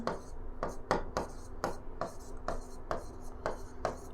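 Pen writing on paper while working a maths problem, a steady run of quick scratchy strokes close to the mic, with a faint steady hum underneath.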